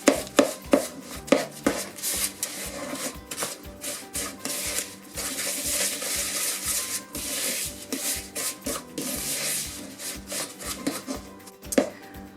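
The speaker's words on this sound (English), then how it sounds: "I like to actually use the back of the spoon as much as possible to really press it together" A spoon scrapes and presses Garibaldi biscuit dough against the side of a bowl, repeated rhythmic rubbing and mashing strokes, close and fairly quiet with no talking.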